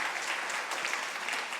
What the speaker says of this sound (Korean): 한번 박수로 또 격려해 주셨으면 감사하겠습니다